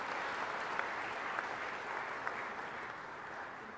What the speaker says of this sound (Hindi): एक बार शिवेंद्र जी का भी ताली बजा के स्वागत कीजिए।